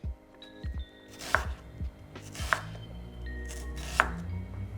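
An onion is chopped with a knife on a board in a home kitchen, a few quiet irregular clacks that build into sharper, louder strikes, close and alone.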